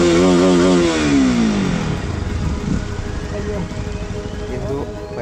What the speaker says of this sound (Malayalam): അവർ ഒരു വണ്ടി ഒന്ന് റേസ് ആക്കാൻ പറഞ്ഞു.